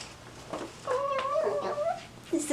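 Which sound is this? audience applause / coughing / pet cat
pet cat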